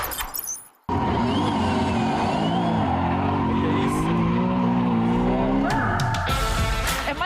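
Car tyres skid and squeal loudly in a virtual drift racing simulator whose track copies a real one, a steady engine roar with shifting screech that starts abruptly after a brief quiet moment and runs continuously to the end.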